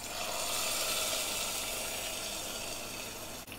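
Hot coconut oil with tempered mustard seeds poured into an egg and potato stew gives a steady, fairly loud sizzling hiss lasting a few seconds, with no talking.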